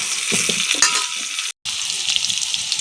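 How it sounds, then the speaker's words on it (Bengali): Cumin seeds frying in hot oil in a home kitchen, a loud bright continuous sizzle with stirring scrapes, briefly cut off by a moment of silence before resuming. "জিরে ভাজা হয়ে গেছে, নাড়িয়ে নেব"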